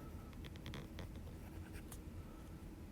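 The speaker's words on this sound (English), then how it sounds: "we're going to write this one out" Marker scratching out a word on a board, a run of short strokes and squeaks at close range over a steady low hum.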